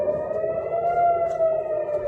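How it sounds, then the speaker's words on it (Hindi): An air raid siren over Tel Aviv during a missile attack gives a steady, sustained wail, loud and droning with layered harmonic tones, holding a near-constant pitch throughout with no voices. "सायरन बज रही है पूरे टेल अवीव में,"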